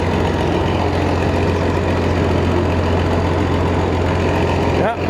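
A Massey Ferguson 760 combine diesel engine runs at a steady loud idle with a low, knocking throb, close by, with a voice speaking over it.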